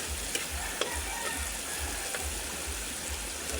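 Bitter gourd (ampalya) sizzles as it is stir-fried in a pan without added water, a soft, steady frying hiss with a few faint utensil scrapes and taps, no voices.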